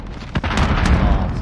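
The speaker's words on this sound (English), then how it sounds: "Missile away." A missile launches in Call of Duty Modern Warfare with a short, sharp boom followed by a dense rushing roar, loud and close, with speech mixed in.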